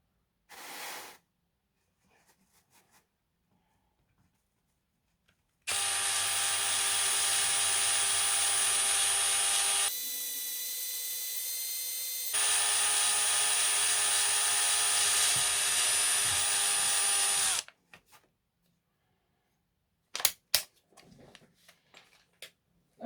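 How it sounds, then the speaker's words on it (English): Power drill boring holes through a model train coach body, an East Coast Mk3 carriage being fitted with a light bar; a steady loud whine for several seconds, a brief dip in pitch, then another sustained run, with quiet handling noises around it. "As you can see, I've not drilled all of them out just yet"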